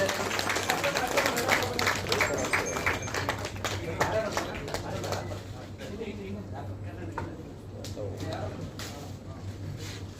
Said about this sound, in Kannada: ಮಕ್ಳ ಜೊತೆ ಜೋರಾಗಿ ಚಪ್ಪಾಳೆ